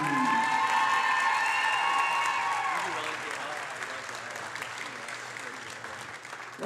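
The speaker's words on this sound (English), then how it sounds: "One more big round of applause for your Bedford First Lady Stars senior volleyball players." A gym crowd at a high school volleyball game applauding and cheering the senior players, loud sustained clapping that slowly fades, with a voice over the public address near the start.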